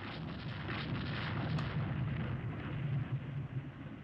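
9-inch naval guns fire in the Rule the Waves II naval battle game, heard as a continuous deep rumbling roar of heavy gunfire rolling on without clear breaks.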